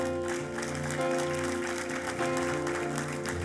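A church congregation applauds its worship group, steady clapping layered over sustained musical tones from instruments in the room.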